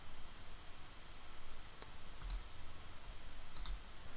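A computer mouse gives a few sharp, faint clicks while right-clicking and selecting menu items in Articulate Storyline 360 software, with a steady low background hiss and no voices.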